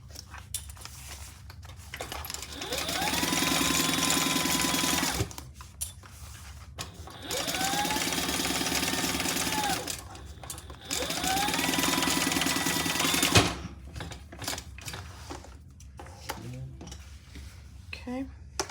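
Sewing machine basting fabric for a Pebble Mini Sling, running in three steady whirring bursts of a few seconds each with short pauses between, close and loud, with a voice briefly heard in the gaps.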